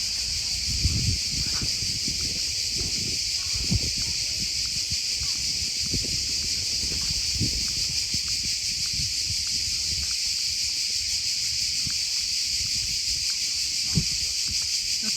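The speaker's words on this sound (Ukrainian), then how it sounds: "цикади дають. Гул такий, аж у голові звистить." Dense, loud cicada chorus sounding as a steady high-pitched buzz throughout, in a park near Split, Croatia, on a hot day with high wildfire risk; faint rustling and low background noise underneath.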